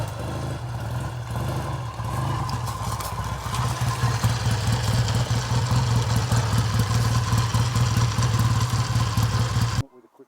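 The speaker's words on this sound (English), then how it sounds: "So, Steve, after a lovely ride round on this fantastic old BSA A10" A 1961 BSA A10 Golden Flash motorcycle engine running nearby with a steady, throbbing, slightly clattery idle that builds a little before cutting off abruptly at the end.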